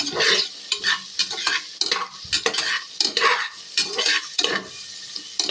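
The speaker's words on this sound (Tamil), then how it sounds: "போட்டுட்டு இது கோல்டன் ப்ரௌன் ஆகிற வரையும் நல்லா வதக்கிக்கோங்க" Onions and a single green chilli sautéing in a pan for vegetable biryani, with steady frying sizzle broken by repeated close scrapes and stirs of a spoon against the pan, no talking.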